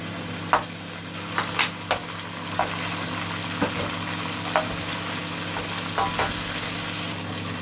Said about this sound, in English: Now let's add the tomato puree.